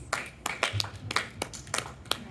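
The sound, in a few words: audience applause for Desiree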